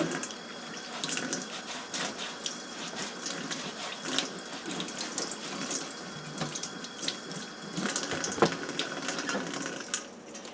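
Water runs steadily from a tap, a continuous hissing splash with small clinks and knocks in the basin, fairly close and without voices.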